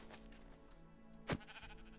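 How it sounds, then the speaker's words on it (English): A sheep bleats once in the Minecraft video game, a short sharp cry over a soft, steady game background. "No, don't hit the sheep."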